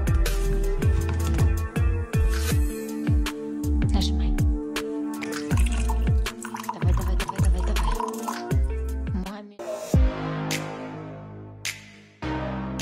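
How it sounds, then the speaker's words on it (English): Water from a dispenser pours in a quick series of short gurgling fills, each rising in pitch, repeated in a choppy rhythm and up close, ending with a few louder splashes and drips. "Order this awesome water dispenser right now!"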